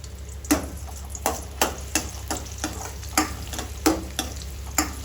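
Cloves and cardamom fry in a pan with a steady low sizzle, while a spoon scrapes and taps against the pan in roughly a dozen short, sharp knocks.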